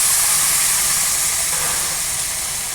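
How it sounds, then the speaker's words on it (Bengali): Sweet pumpkin pieces drop into a hot pan of oil for a dried fish and pumpkin curry, giving a loud, steady sizzle and hiss that fills the whole stretch without pause. "এখন আমি মিষ্টি কুমড়োগুলো দিয়ে দিচ্ছি।"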